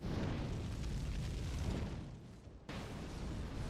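Fire pots set off a long, loud blast with a roaring rumble in Elden Ring. It cuts out abruptly, then a second burst follows, with no voices.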